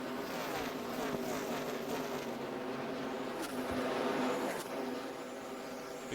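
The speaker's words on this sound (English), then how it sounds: "Big group of cars behind him." NASCAR Busch East Series race cars at Dover Motor Speedway roar together as a group at a steady, loud level, their engine whine rising and swelling slightly midway with a brief passing surge.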